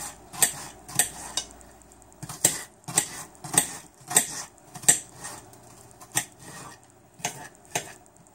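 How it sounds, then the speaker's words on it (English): An onion is chopped by hand with a knife on a cutting board, giving a run of sharp, evenly spaced knocks with short pauses between, close and fairly quiet. "I'm just going to go ahead and cut up the onion now."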